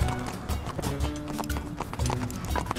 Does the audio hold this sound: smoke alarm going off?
no